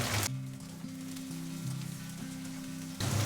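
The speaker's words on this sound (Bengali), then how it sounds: "এবার এর মধ্যে পেঁয়াজ দিয়ে দেবো পেঁয়াজটা একটু ভেজে নেব" Quiet sizzling of onion frying in oil, with a low, steady humming tone running underneath through the middle.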